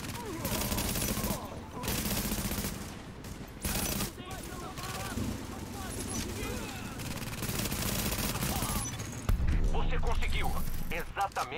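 Gunfire rattles through a firefight in the video game The Division at a refugee camp, with dense bursts and volleys running throughout while people talk over them.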